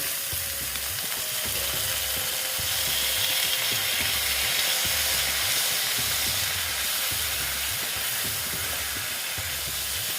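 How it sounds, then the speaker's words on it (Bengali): Water poured onto ground coriander and other spices in a hot pan sets off a steady, close hissing sizzle, with a soft rhythmic scraping of stirring underneath. "একটু জল দিয়ে দিচ্ছি"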